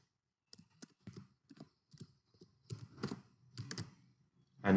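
Keys are tapped on a computer keyboard as a name is typed, giving quiet, irregular clicks in short bursts and small clusters with pauses between, close and alone, with no talking.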